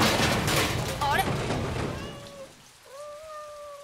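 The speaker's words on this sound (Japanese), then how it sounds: "私たち猫を追っかけてたの。" A cartoon cat meows in two drawn-out, wavering cries over a busy, rain-like noise background with talking at the start.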